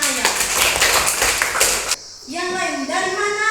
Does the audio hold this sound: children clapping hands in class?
yes